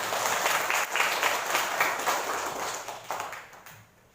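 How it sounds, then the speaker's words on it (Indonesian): A classroom of students claps, a moderately loud burst of scattered applause that runs for several seconds and then tapers off toward the end. "Tepuk tangan"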